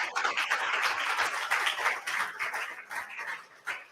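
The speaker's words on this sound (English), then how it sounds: "A big round of applause to Mr. Lee for moderating this session." Audience applause at the close of an evening arts talk session, a dense patter of claps filling the room, steady and fairly loud for several seconds with slight swells and a brief burst near the end.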